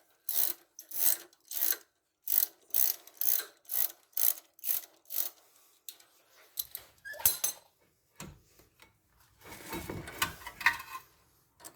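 Ratchet wrench backing out a bolt on a Ford Edge during wheel bearing work, heard as a close, loud run of rhythmic clicking bursts that ends in looser scraping and rattling of the bolt and metal parts.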